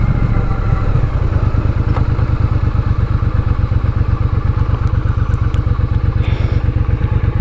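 A 2022 Triumph Bonneville Bobber motorcycle being ridden, its engine thrumming steadily and loudly with a constant low rumble and light mechanical clatter throughout.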